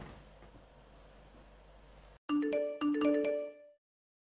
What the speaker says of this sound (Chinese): 左安，你手机一直在响，快看看吧。